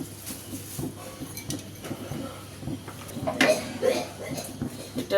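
Fried cashews and raisins tipped into a pot of basanti pulao, with a few clinks and scrapes of a spoon against the metal pot over a low steady kitchen hum.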